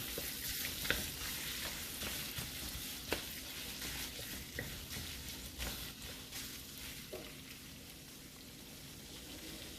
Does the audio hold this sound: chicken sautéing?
yes